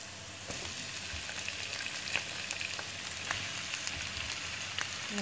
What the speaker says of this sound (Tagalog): Ilagay naman po natin ang pusit.